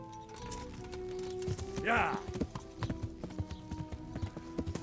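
Horse hooves clip-clopping in the medieval video game Kingdom Come: Deliverance, a run of close, rhythmic hoofbeats with a brief whinny-like sound and background game ambience.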